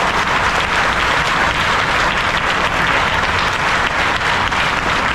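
A large audience at a spiritual discourse claps hard all at once, a dense, loud, sustained wash of applause with no pauses.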